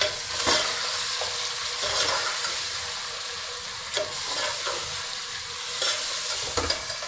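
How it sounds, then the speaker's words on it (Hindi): Mutton with fennel, coriander powder and salt roasting and sizzling in a pot for Bakra Eid yakhni pulao, a steady frying hiss broken by a few sharp spoon scrapes and knocks, close and fairly loud, with no voices. "और अब करेंगे हम इसकी अच्छी तरह से भुनाई"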